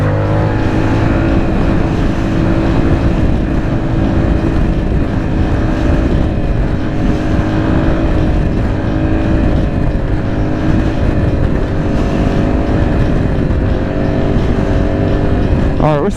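A Yamaha R7 motorcycle engine drones steadily and loud throughout a ride, with close wind rush and slight pitch shifts as throttle changes, no clear talk heard.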